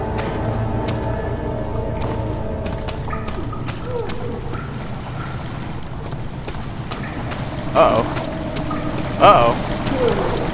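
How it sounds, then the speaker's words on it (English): Water rushes and pours steadily into a chamber under a low mechanical hum in Amnesia: The Dark Descent, with brief game tones and a short spoken exclamation near the end. "Water's beginning to slowly fill the chamber."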